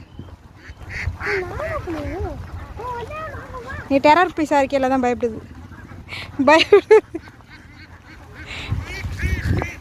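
A duck quacks in several quick, nasal bursts in the middle of the clip, while people talk nearby.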